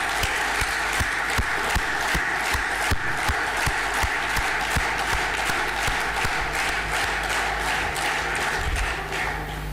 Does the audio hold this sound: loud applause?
yes